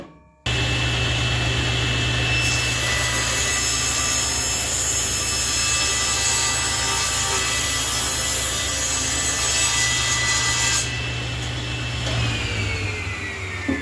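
A table saw rips through a wood workpiece, a loud, steady high-pitched whine and grinding hum that holds for about twelve seconds, its tone shifting as the cut ends and the blade winds down.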